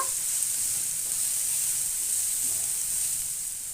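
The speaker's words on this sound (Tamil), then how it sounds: "வெங்காயம் சேர்த்துட்டு நல்லா இதை வதக்கி விட்டுருங்க" Onions sauté with mustard seeds in hot oil in a pan, giving a close, steady sizzle and hiss that runs evenly throughout with no voices.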